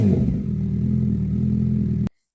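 A Honda CB1000 Hornet SP motorcycle with a valving system idles and revs nearby, its engine a loud, steady mid-pitched drone that cuts off abruptly into silence.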